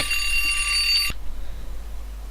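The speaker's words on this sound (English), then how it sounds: "I think my alarm just went off to say I've got a pizza." An alarm rings with steady bright tones for about a second, then cuts off abruptly, leaving a quiet room hum.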